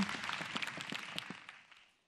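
Audience applause at a stand-up comedy show, a dense wash of many clapping hands that swells briefly and then fades away over about two seconds.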